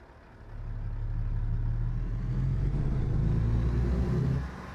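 A truck engine in American Truck Simulator, driven like a Caterpillar 3406B, runs with a deep, steady diesel drone that swells as it pulls and then eases off near the end, with no talk.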